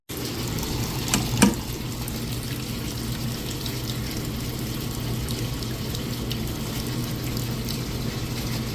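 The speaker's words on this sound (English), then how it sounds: "the size of this drain, I would imagine this thing would be draining a little bit faster" Water running into a slow-draining house drain, a soft steady trickle and gurgle with a brief louder splash near the start, faint and close with no talking.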